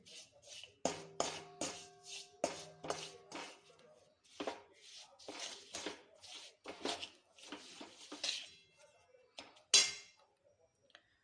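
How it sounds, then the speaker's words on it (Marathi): Water chestnut flour shira with sugar, cashews and almonds is stirred in a pan, a quiet series of irregular scraping, tapping spoon strokes ending in one sharp clink. "पण आता याला थोडं दोन मिनटं परतून घेऊ"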